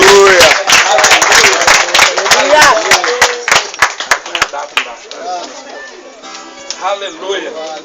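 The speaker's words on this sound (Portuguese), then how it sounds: "aplauda o Senhor." Congregation clapping together at a church baptism service, a dense burst of hand claps that thins into scattered claps as voices and exclamations carry over it.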